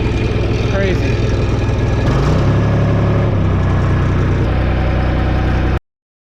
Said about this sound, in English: You ever have a diesel that starts that easy?